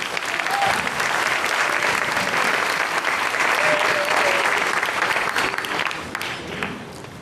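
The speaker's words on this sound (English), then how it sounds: "Let's give her a round of applause." An audience at a vegan peace event in Chicago applauding after a performance, a sustained, dense roar of clapping from a large crowd that holds steady for several seconds and then begins to fade.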